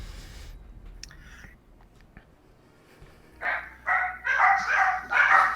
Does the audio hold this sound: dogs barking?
yes